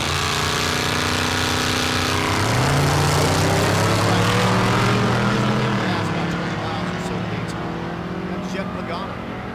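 Big block Chevy V8 in a truck bodied on an S10 chassis roars loudly at a drag race, rising in pitch as it revs and then easing off; a commentator talks over the engine throughout.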